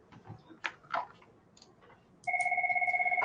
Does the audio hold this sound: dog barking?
no